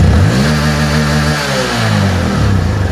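Engine of a Honda CRF 150L motorcycle with a remapped ECU revving steadily and loud up close, pitch dipping slightly mid-way and climbing again, with no voices over it.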